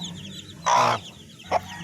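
A mother hen with newly hatched chicks gives a loud, close cluck, then a second shorter cluck a moment later, over quiet background.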